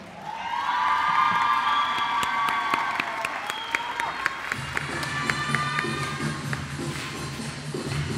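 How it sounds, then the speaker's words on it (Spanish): An audience at a Mother's Day school festival applauds and cheers, a dense loud wash of clapping with whoops and whistles that continues as music plays underneath. "¡Que se escuche ese fuerte aplauso!"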